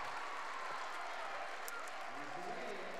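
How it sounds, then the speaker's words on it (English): A gymnasium crowd applauds Holy Trinity Catholic after a girls' state high school volleyball semifinal against Janesville, a dense, steady wash of clapping with a commentator's voice running over it. "And they're clapping for Holy Trinity, and they deserve it."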